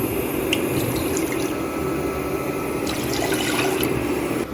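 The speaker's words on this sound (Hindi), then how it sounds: "अपना लेना है पैन, उसमें हम डालेंगे 2 कप पानी।" Water poured into a cooking pan to make sugar syrup for gulab jamun, a continuous splashing, trickling stream with a few brighter drips, close and moderately loud.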